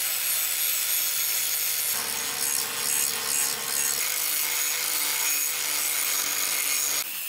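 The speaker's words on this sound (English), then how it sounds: "I can mark and roughly grind the bevel for the cutting edge" Continuous abrasive grinding as a rough bevel is ground onto a draw knife blade cut from an old diamond saw blade; a steady, close, harsh rasping drone that shifts pitch slightly as pressure changes, with no talk.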